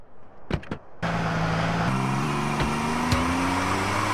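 A car engine in GTA San Andreas starts after a couple of knocks, then runs steadily with a rising drone as it pulls away, close and even.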